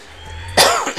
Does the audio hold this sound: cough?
yes